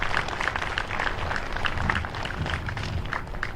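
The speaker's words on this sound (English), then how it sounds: "How about a nice round of applause for Mrs." An audience at a high school graduation claps for retiring teachers, producing dense, steady applause at moderate distance. No voices are heard.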